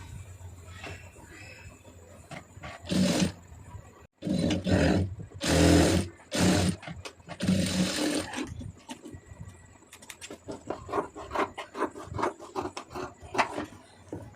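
A sewing machine stitches a plain blouse in several loud, sustained bursts of rapid running, with quieter handling sounds between the runs.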